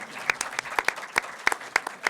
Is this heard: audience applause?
yes